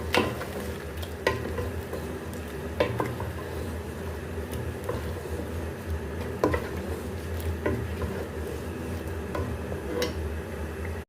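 Yogurt is stirred into a sizzling chicken and chickpea curry in a pan, giving a steady close frying hiss broken by the spoon's regular scraping clinks against the pan.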